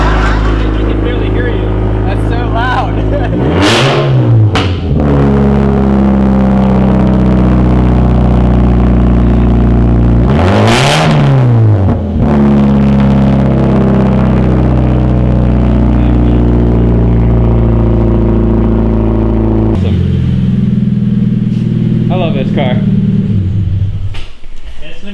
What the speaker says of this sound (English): You get a little cold start action.